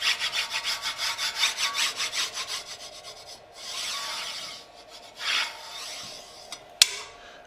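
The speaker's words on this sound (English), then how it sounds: "I'll just burnish down the tape so it sticks really well." Dowel pin rubbed firmly over tape on wooden stock, a close, rhythmic scraping of quick back-and-forth strokes that slows and softens toward the end, with a small click near the finish and no voices.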